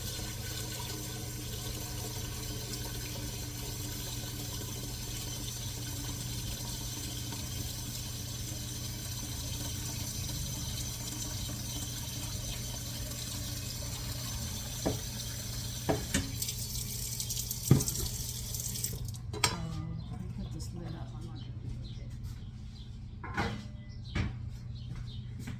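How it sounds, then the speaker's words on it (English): Water from a kitchen tap filling a pot, a steady broadband rush that cuts off near the end, followed by a few faint clinks and knocks. "So let me fill this pot up."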